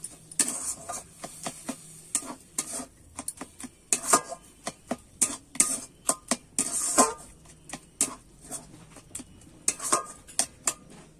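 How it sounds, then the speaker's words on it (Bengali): A milk mixture is stirred in a pan, giving a run of sharp, irregular spoon clinks and scrapes against the metal, close and moderately loud, with no voices. "এবারে কিন্তু আমি নেড়ে নেব ভালো করে।"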